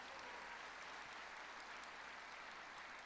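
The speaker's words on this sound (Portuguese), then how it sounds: "Pode aplaudir ao Senhor." A church congregation claps together in a sustained, dense wave of applause during a sermon, steady and even throughout with no voices over it.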